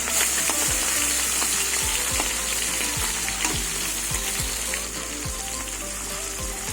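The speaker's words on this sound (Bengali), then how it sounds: "জ্যান্ত মাছগুলো বেশি কড়া করে ভাজবো না" Live tangra fish fry in hot oil with a loud, continuous sizzle and spatter, punctuated by soft low knocks from the pan throughout.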